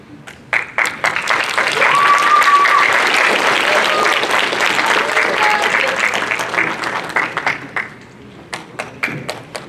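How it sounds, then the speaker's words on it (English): Audience applause for a presenting team at a youth learning-lab city presentations and awards event, a sustained wave of many hands clapping that swells, holds, then thins into scattered claps. "let's give one more round of applause for our Team 5"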